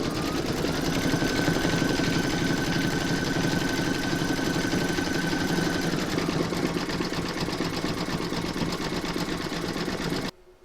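An embroidery machine stitches an in-the-hoop dog-themed coaster, a steady fast mechanical whirring and rapid needle clatter running continuously and fairly loud, then stopping abruptly near the end.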